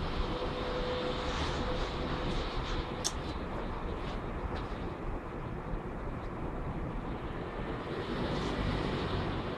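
Constant low roar of a helicopter flying high overhead, broad and rumbling, steady throughout with slight swells.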